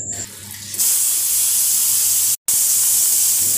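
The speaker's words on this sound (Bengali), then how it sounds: "কড়াইটা একটু তেতে এলে কালো জিরে দিয়ে দিলাম।" A loud, steady hiss of nigella seeds sizzling in hot oil in a wok bursts in suddenly and continues close by, briefly cutting out before resuming.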